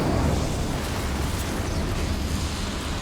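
A loud, sustained rushing burst of fire from the Incendio spell in Hogwarts Legacy, a dense roaring blast that holds steady for about three seconds with no voice over it.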